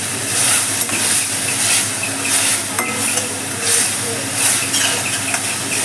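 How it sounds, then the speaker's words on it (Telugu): Onions frying in a pan with salt are stirred, a steady sizzle and hiss with soft scraping strokes repeating throughout, close and continuous. "కలిపేస్తున్నా."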